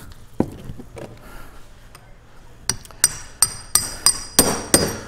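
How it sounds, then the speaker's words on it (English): A hammer strikes the front axle kingpin of a 1947-54 Chevy or GMC truck, a few scattered blows first and then a quick run of sharp, ringing metallic whacks, loud and close. "Give it a couple of more whacks."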